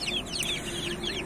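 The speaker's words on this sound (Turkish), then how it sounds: "Şu horoz." Chickens and a rooster cluck in a short, close burst of overlapping calls against a soft background hum, with no talking.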